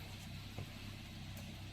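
A 2012 Toyota Corolla Altis 1.6 E running on CNG idles cold at about 900 rpm, a low, steady, faint hum with an even pulse and no voices.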